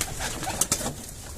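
Pigeons cooing softly against a noisy outdoor background, a brief, faint call.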